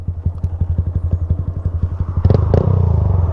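Honda Grom motorcycle idling low and uneven, a close loud single-cylinder putter with steady thumping pulses, briefly rising with a clattery rev before settling back into a lumpy idle.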